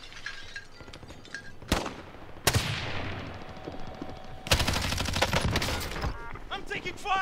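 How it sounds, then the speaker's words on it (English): Dense bursts of automatic gunfire in the Warzone battle royale video game, with sharp volleys around the two-second mark and a sustained rapid fusillade later on, heard over a background of game ambience. "I'm taking fire."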